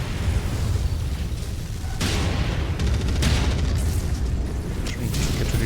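Missile explosions in the MechWarrior video game, a dense, loud stretch of booming blasts and rumbling bursts that overlap one another without pause, with sharper hits partway through.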